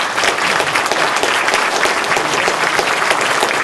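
Dense, steady applause from an audience at a gun law forum in Southington, Connecticut, a full crowd clapping loudly and continuously throughout with no pauses.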